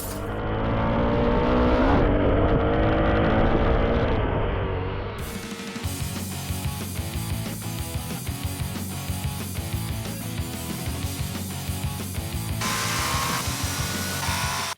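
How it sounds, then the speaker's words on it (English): Postie motorcycles racing through the streets of Cessnock, a loud, close engine buzz shifting in pitch, followed by a dense churning mix of motor noise and rattling. "Here's a 30-second preview of our Thrills Delivered, a postie bike race around the streets of Cessnock."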